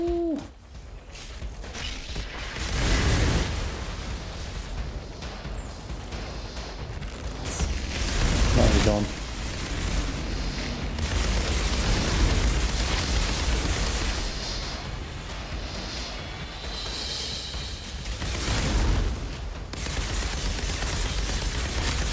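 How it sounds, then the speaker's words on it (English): Heavy explosions and rapid gunfire crash through a fight in Outriders Worldslayer, with loud booming bursts near three and eight seconds over a constant roar of battle, and a voice speaks briefly. "Too many explosions in there."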